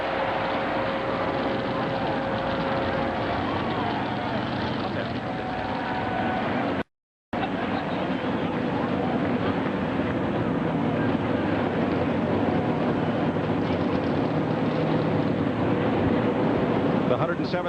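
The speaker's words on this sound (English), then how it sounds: "The 107th Fighter Squadron, Lieutenant Colonel Glenn Schmidt leading the flyby." Military fighter jets of the 107th Fighter Squadron flying over a NASCAR race at Michigan International Speedway, a broad sustained roar of jet engines filling the air, swelling and lingering, briefly cut by a moment of silence.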